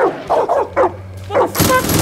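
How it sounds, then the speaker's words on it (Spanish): A dog in the video game Far Cry 5 barks five times in quick yapping bursts, close and loud, followed by a sudden burst of gunfire or impact noise. "Escucho un perro acá"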